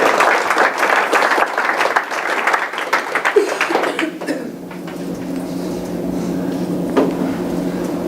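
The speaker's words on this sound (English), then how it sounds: "Just trying to draw out a clap from the audience." A lecture audience applauds at the end of a technical talk, a burst of clapping for about four seconds that fades out, leaving quiet room tone with a faint hum.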